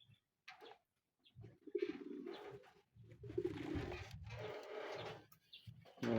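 Racing pigeons cooing at a derby loft in San Narciso, Quezon: repeated soft, throaty coos in bursts, fairly close, with short pauses between them and no talk.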